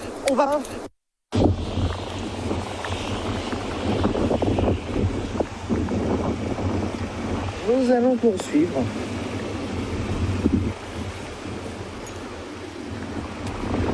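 Wind from Tropical Storm Ernesto roars and buffets the microphone steadily at Le Moule, Guadeloupe, a loud continuous rush with someone speaking briefly over it.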